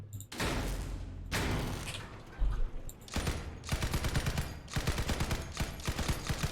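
Short bursts of machine gun tap fire in a video game test server crack out in quick clusters, separated by brief gaps, loud and close, with heavier thumping volleys toward the end.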